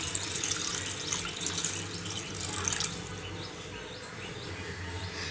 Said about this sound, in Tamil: இப்போ அரிசிக்கு தேவையான தண்ணி ஊற்றிக்கலாம்.